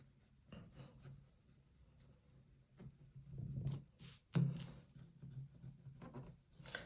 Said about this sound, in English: So I'm just going to rub them down.